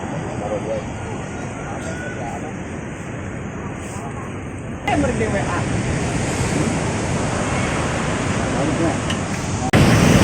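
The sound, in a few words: ocean waves crashing against rocky coral cliffs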